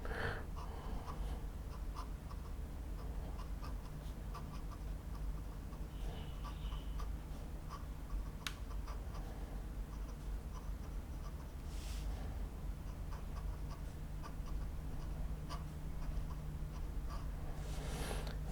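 A Pilot Custom 845 fountain pen with an urushi-lacquered ebonite body and medium nib scratches steadily across paper, a soft continuous close-up writing sound with faint breathing in the background.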